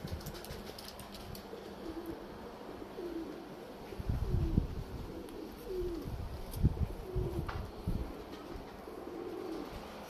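Uzbek pigeons coo softly and repeatedly at close range, low rolling calls recurring every second or so over quiet background noise.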